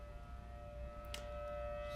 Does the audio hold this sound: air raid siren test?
yes